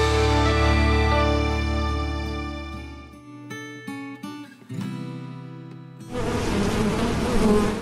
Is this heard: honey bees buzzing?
yes